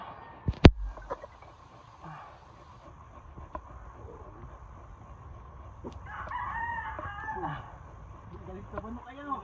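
A rooster crows in the middle distance, a drawn-out call partly masked by heavy breathing, footsteps and rustling close by.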